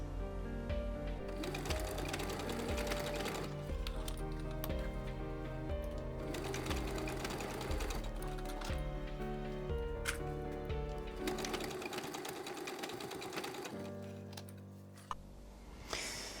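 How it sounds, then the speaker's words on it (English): A sewing machine runs in a steady rapid whir, stitching together the short edges of a jeans waistband, with brief pauses and restarts and a few faint clicks, no talking. "This is how I will sew these together at the short edges."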